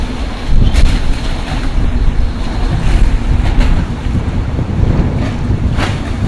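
Heavy surf churns and crashes continuously, with strong wind buffeting the microphone throughout; no one speaks.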